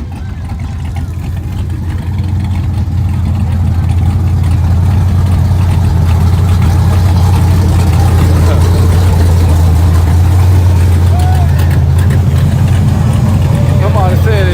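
A street-racing car does a burnout on a hood track, its engine droning loudly and steadily with a deep rumble that builds over several seconds, while people talk nearby.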